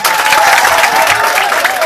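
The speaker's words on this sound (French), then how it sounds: "Applaudissez pour vous-même." An audience claps loudly and steadily at the finale of an eloquence contest, dense continuous applause filling the whole moment with a faint sustained tone running underneath.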